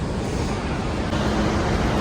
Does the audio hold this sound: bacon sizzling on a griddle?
no